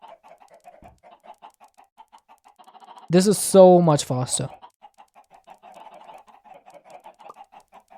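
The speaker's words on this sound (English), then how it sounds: "That chicken sound is just too much." Chickens in the Minecraft modpack Enigmatica 6 cluck in a soft, rapid, repetitive stream that keeps going throughout, and someone speaks briefly over them partway through.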